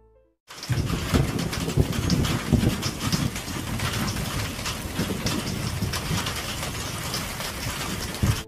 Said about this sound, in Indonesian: cuaca yang sedang diguyur hujan deras